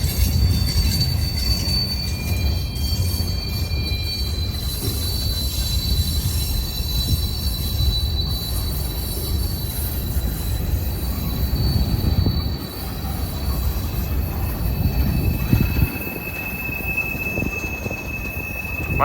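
A CSX freight train's wheels squeal loudly and steadily as it rounds a corner, a continuous high-pitched screech over the rumble of the cars, holding on for the whole stretch with a brief dip near the end.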